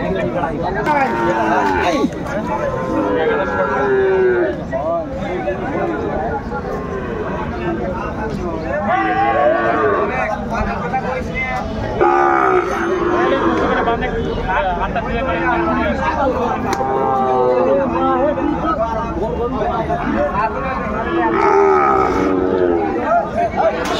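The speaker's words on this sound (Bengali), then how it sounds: "শাহিওয়ালা ষাঁড়" A Sahiwal bull at a busy cattle market lows in long, drawn-out calls that repeat through the scene, mixed with the murmur and chatter of traders haggling close by.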